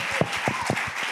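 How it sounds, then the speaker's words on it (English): A small church audience claps its hands during a testimony with a handful of separate, fairly even claps that sound close and light, backed by a faint hum. "Come on, y'all, clap your hands."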